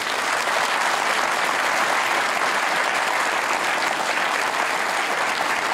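Sustained, dense applause from a studio audience for a TV panel on a current-affairs debate show, loud and steady throughout with no talk over it.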